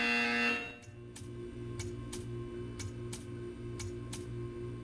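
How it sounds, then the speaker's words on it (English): Test chamber buzzer in the Portal 2 video game: a loud opening tone, then a quieter repeating buzz with a regular rhythm of sharp ticking pulses over a low electronic hum. "You will hear a buzzer."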